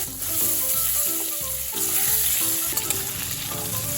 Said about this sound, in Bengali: এই তেলে আমি হলুদ লবণ মাখানো বেগুনগুলো ভেজে নেব।